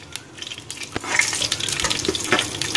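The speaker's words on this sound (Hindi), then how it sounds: "ये बघार के लिए हम 1 चम्मच भर के कुकिंग ऑयल डालेंगे, और ये जो खड़े मसाले हमने रखे थे ये सब एक साथ डाल देंगे।" Whole spices hitting a spoonful of hot cooking oil for tempering an Arabian-style mandi, giving a close, steady crackling sizzle with brief pops and a stirring scrape, no talking.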